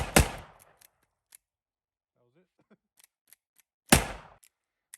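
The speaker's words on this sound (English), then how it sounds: "This is a Uberti or Uberti, whatever you want to call it. I don't know how to pronounce it. 45 Colt. And I'm going to cowboy shoot the shit out of it." An Uberti .45 Colt revolver fires two loud, sharp shots a few seconds apart, with faint clicks and mechanical handling sounds between them and a brief faint voice.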